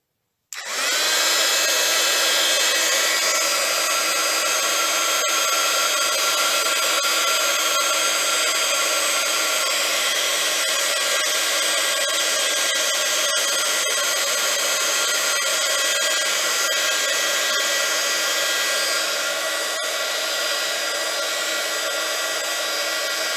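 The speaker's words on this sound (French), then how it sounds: "je vais prendre mon pistolet chauffant." Heat gun blowing steadily to melt embossing powder on a card, a loud continuous fan-and-air roar that starts abruptly and holds for over twenty seconds, close and alone without speech.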